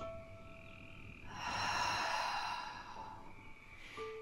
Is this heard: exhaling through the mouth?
yes